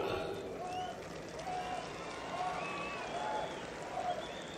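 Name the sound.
audience applause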